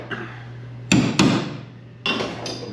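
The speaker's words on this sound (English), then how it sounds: "that last bit I hammer in is really got to be hit hard" A knurled hinge pin on a 1970 Chevelle is hammered in with two hard metallic blows close together, a pause, then two more strikes, loud and close over a steady low hum.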